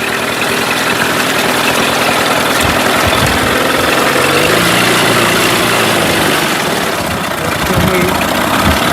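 A Mercury 8HP outboard engine runs steadily in reverse, a loud, continuous low mechanical drone with a slight knocking vibration throughout, close by and unbroken.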